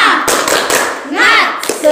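A school class does the tepuk semangat clapping chant, sharp rhythmic group claps mixed with children's chanting voices, loud and close.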